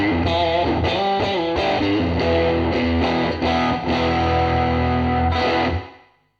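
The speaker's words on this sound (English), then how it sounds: "The tile reverb recreates a very small room with the tile" Electric guitar through a TC Electronic Hall of Fame reverb pedal on its tile setting, a small tiled bathroom-like room, plays a loud, distorted run of chords and notes that rings steadily, then decays into a short tail.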